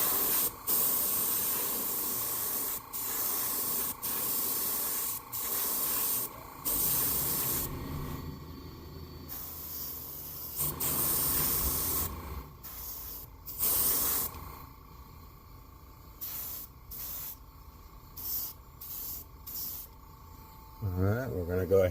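Airbrush spray hissing in repeated bursts while painting a rainbow trout fishing lure, close and loud, with the bursts clearing overspray of silver paint, stopping and starting between quieter pauses.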